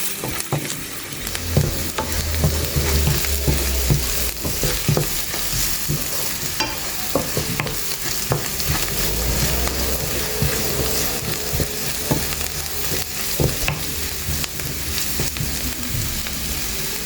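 Diced potato vegetable with turmeric is stirred and fried in a pan, a loud steady sizzle with repeated scraping and clinking strokes of a spoon throughout, no talking.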